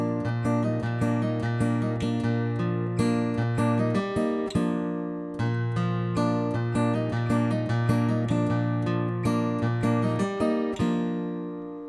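Acoustic guitar fingerpicking two bars of a song, a clear, close, steady pattern of plucked notes ringing over one another, played alone with no voice.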